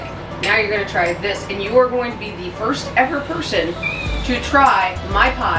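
A cat meows repeatedly under a person talking, the cries mixed in with the speech and fairly close.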